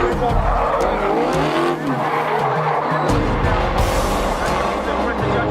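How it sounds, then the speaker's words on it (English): A BMW drift car with a supercharged LS6 engine slides through a run with loud sustained tire squeal over a roaring, revving engine. A commentator talks over the noise. "Supercharged LS6 under the bonnet of the BMW, and running a really nice line here, Ian, as well, nice and wide."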